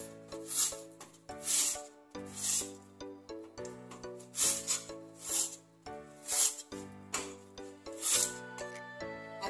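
Raw green mango is grated with firm, even pressure in a series of rhythmic rasping strokes, about one every second. The scraping is close and repeats over soft background music.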